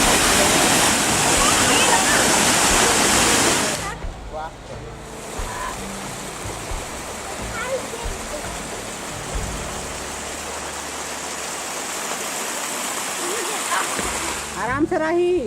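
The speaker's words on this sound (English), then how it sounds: "the sound and sight of water were amazing." Rushing water at a waterfall in Snowdonia, a loud broadband roar that drops abruptly after a few seconds to a softer, steady splashing flow, with faint, indistinct background sounds and a brief louder return at the end.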